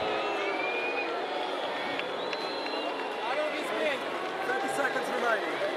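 A large tennis crowd at the Australian Open final between Wawrinka and Nadal whistles, cheers and murmurs steadily in a big stadium, with a commentator speaking over the crowd.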